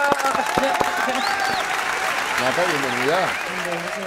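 A studio audience applauds to welcome a singer on a vallenato television show, crowd clapping and cheering with sharp early hand claps and whooping voices rising over the applause.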